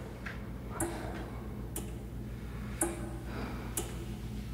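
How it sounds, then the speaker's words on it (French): A clock ticks steadily at a regular pace through a quiet therapy-session scene, each tick crisp and close against a low hum, with no talking. "on entend beaucoup le bruit de l'horloge lorsque Mark ou même Steven se retrouvent face au psychologue"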